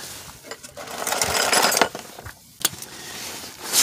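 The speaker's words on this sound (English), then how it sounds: "You push this button and you can swivel the ratchet any which way." Harbor Freight swivel-head ratchet turning bolts during a Chevy Cobalt engine removal, giving a burst of rapid mechanical clicking and ratcheting, close and fairly loud, with short pauses between strokes.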